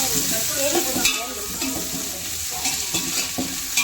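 About half a kilo of sliced onions fry in hot oil, giving a loud, dense, steady sizzle with irregular stirring scrapes and clinks close by, and no voices.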